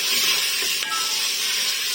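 Tomato paste sizzling as it roasts directly in a pan for a chana dal gosht curry, a steady loud frying hiss that carries on evenly throughout without talk.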